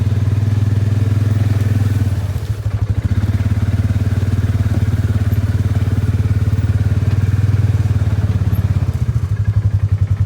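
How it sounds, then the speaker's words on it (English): A mid-size Ranger utility vehicle churns in deep mud in four-wheel drive, its engine a loud, steady low drone with pulsing revs, clattering thumps and spattering as the wheels spin, close and continuous with no talk. "it's pretty muddy right here, and I'm already spinning in four-wheel drive, so I'm hoping I can get out of it"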